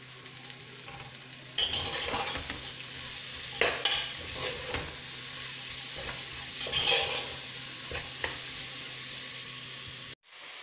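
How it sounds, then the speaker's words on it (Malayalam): Chopped shallots and onions sauté in a pan for beef biryani, a steady sizzle and frying hiss with repeated stirring scrapes, close and continuous, then cutting off abruptly near the end. "അപ്പം നമുക്ക് ഈ ഉള്ളി സവോള ഇതിലോട്ടിട്ട് നന്നായിട്ടൊന്ന് വഴറ്റിയെടുക്കാം"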